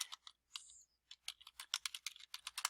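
Quick, light clicks of a computer keyboard as a short folder name is typed, keystrokes coming in uneven bursts with brief pauses, close and fairly quiet with no talking.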